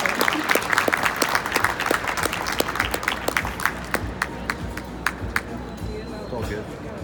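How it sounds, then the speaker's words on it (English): Audience applause after a conference presentation on growing a fan base with social media ads, a crowd clapping briskly and steadily, then thinning out to scattered claps as it fades near the end. "Please give a warm round of applause for the great presentation."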